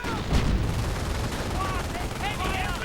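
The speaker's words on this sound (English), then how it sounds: "Volksgrenadiers rush into this mess only to come under heavy fire" Heavy gunfire in a Company of Heroes match as infantry rush in under fire, rapid bursts of small-arms shots and battle noise, fairly quiet and steady beneath a commentator's voice.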